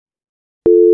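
A phone's busy tone sounds just after a call is hung up, starting abruptly as a loud, steady, close-up electronic tone.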